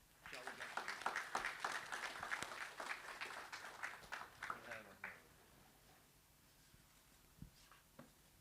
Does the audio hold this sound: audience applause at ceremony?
yes